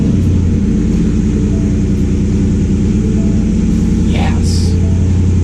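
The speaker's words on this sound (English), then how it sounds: "just listen to this freaking V8 fire up in the garage" A Ford F-150 V8 rumbles loudly inside a garage: a deep, steady, throbbing engine note that continues without a break, with a brief higher sound near the end.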